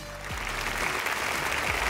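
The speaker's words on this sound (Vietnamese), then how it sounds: "Một tràng pháo tay cho đoạn teaser rất là hay này" A TV singing-competition audience applauds a teaser performance with dense, steady clapping for about two seconds, over a faint low musical hum.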